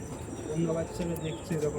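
Pigeons at a pigeon seller's cooing softly and repeatedly in low throaty pulses nearby, with faint background chatter from people.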